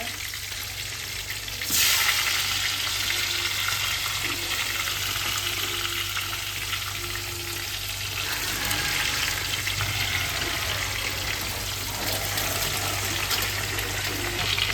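Stuffed bitter gourd frying in hot oil gives a steady, close sizzle that swells after the first couple of seconds, with faint occasional scraping and no talking.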